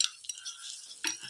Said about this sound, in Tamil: வெங்காயத்தை மட்டும் லைட்டாக மட்டும் ஃப்ரைங் பண்ணிடுவோம்